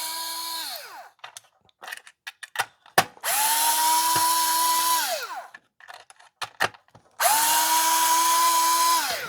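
A PH2 Phillips driver backs screws out of a Hayward TracVac pool vacuum suction cleaner, with long whirring runs that wind down, separated by short clicks and handling noises.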